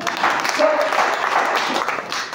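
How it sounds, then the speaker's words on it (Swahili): An audience at a pastor's teaching session for married couples bursts into continuous, dense applause for a couple of seconds. A voice is briefly audible within the clapping. "Pigia ile makofi"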